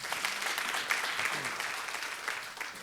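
Audience applause after a business strategy lecture for companies entering China, a steady, dense wash of clapping from a full hall lasting throughout, moderately loud with no voices over it.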